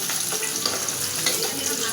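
Spice paste frying in hot oil in a wok, a continuous close, bright sizzle with a faint stirring texture, steady and alone without talk.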